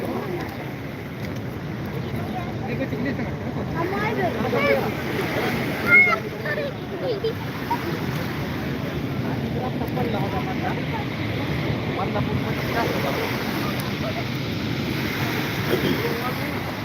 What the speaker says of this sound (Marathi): ती लाट आलेली